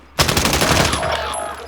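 Gunfire in a battle royale video game: a loud burst begins abruptly and rattles on as rapid, closely spaced shots, with no talk.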